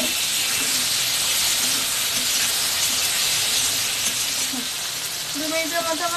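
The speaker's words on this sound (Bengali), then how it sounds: "এর মধ্যে আমি দিয়ে দেবো চিড়ে রাখা লঙ্কা, দিয়ে আমি 2 মিনিটের মতো আবার একটু ভেজে নেব।" Green chillies fry in hot oil over a fish curry base for a potato and eggplant fish stew. A steady, close sizzling hiss runs throughout, with a few faint tonal clinks near the end.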